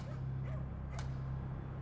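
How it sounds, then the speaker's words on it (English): A stray dog gives a couple of faint, distant barks on quiet Pudding Lane in old London at night, set against a steady low hum. "apart from the occasional bark of a stray dog"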